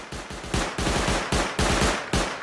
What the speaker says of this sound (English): It's a turret that they just placed, I think.